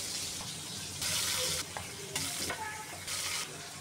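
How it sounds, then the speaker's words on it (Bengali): Pieces of pangas fish fry in hot oil, giving a steady close sizzle that surges in loud bursts and eases back, with a few stirring clicks between them. "আমি এই কয়েক পিস ভেজে নেই"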